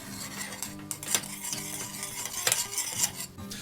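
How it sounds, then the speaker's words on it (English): A spoon stirs soy sauce with garlic and ginger heating toward a simmer in a pot, giving irregular clinks and scrapes against the metal over a soft bubbling sizzle, close up, with no voices. "I'm gonna give it a stir and bring it up to a simmer"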